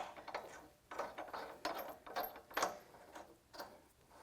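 Bolts are tightened with a wrench while assembling an Allegro Nextgen Pilates reformer, producing repeated close ratcheting clicks in short, uneven bursts with brief pauses between them.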